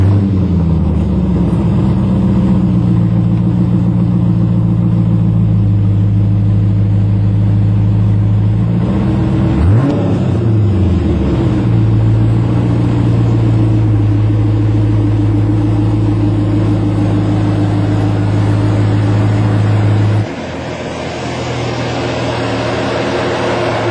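An LS1 V8 with a new AAA muffler idles with a deep steady burble, swells into a loud rev near the middle, then settles back to a lower rumble.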